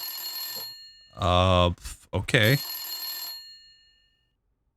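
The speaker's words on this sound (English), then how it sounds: "our phone's ringing." A telephone rings at the start and end, with its harmonic bell tone steady and clear, broken in the middle by a short spoken exchange.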